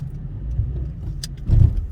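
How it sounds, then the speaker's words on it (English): A school bus drives past on a road, a low rumbling pass that swells near the end of the short stretch, with a brief jangle of keys partway through. "Right after that school bus passes."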